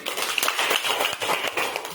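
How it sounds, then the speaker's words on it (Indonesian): A short burst of scattered hand clapping from a class of university students, fairly light and brisk, lasting about two seconds. "Tepuk tangan dulu."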